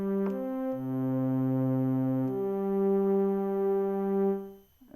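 A Roland SH-4d synth pad with Roland's chorus effect holds sustained tones that shift pitch a few times, smooth and slowly wavering, moderately loud and alone before fading at the end.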